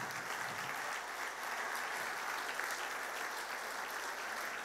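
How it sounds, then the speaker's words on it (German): Sustained, loud audience applause filling an event hall at a business award ceremony, the Altmark economic prize presentation, steady dense clapping throughout with no voices over it. "ich darf Sie noch einmal um einen richtig kräftigen Applaus bitten"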